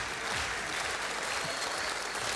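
Audience applause welcoming a performer onto a stage, a dense and steady burst of many hands clapping that sustains evenly throughout.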